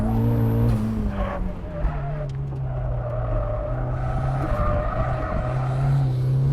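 A turbocharged Mazda Miata corners hard around Lime Rock track, its engine droning loud and steady throughout with rising and falling revs, tire scrub and squeal mixed in, no ABS.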